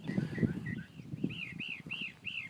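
A mockingbird sings a run of repeated, bright chirping phrases over low rumbling background noise, fairly close and moderately loud.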